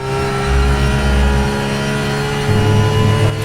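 A race car in the RaceRoom Racing Experience video game roars at full throttle, its loud, steady engine drone holding strong with rising, throaty tones throughout.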